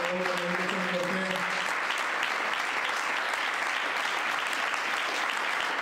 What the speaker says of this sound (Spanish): Un aplauso, por favor, para el resto de Cortés.